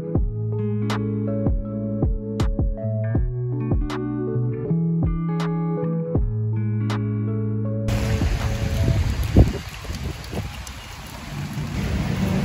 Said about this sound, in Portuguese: Chovendo em solos portugueses